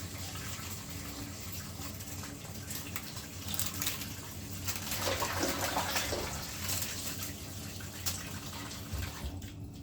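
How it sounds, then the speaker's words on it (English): Water poured into a cooking pot while a healthy meal is made at home: a steady running, splashing stream of moderate loudness that swells in the middle, with no talking. "So add some water to that."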